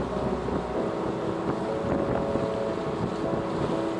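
Steady wind buffets a cruising sailing yacht heading along the coast to Bundaberg, a continuous loud rush of gusts and microphone wind noise with a low underlying hum and no talk.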